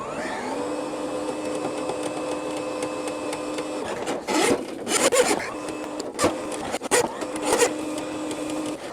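A Milwaukee M18 Fuel drain cleaner motor whirs steadily, then its spinning spring cable rattles and scrapes against the drain pipe in uneven bursts while the motor keeps running.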